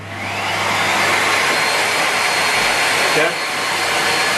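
A broken Miele Complete C3 canister vacuum cleaner runs with a loud, steady roaring whoosh and a low hum, its pitch dipping briefly partway through; a voice speaks briefly over it.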